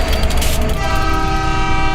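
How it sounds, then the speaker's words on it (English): A train in Rosenberg, Texas, moaning its horn: a loud, sustained, droning horn tone over a rumbling rail noise that holds steady for the whole moment, with no talk. "it's not just the trains that moan off in the distance"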